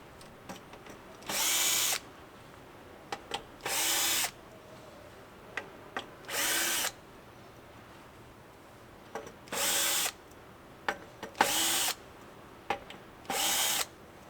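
A power screwdriver backs out screws from a Hisense HK570 terminal in six short, loud whirring bursts separated by quiet gaps with small clicks of handling.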